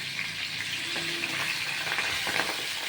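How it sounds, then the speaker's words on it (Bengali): Pabda fish seasoned with salt and turmeric frying in a pan, giving a steady, close hiss of sizzling oil throughout with a few faint stirring sounds and no voices. "এবার আমি মাছটা উল্টিয়ে দেখব যে মাছটা কেমন ভাজা ভাজা হয়েছে"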